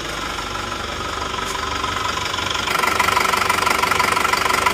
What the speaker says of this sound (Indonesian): Terus suara mesinnya